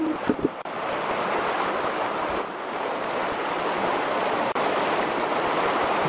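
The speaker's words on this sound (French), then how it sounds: "une petite halte au bord d'un torrent avant de repartir" A mountain torrent rushes through woodland, a loud, steady roar of turbulent water close by, with a few faint knocks early on.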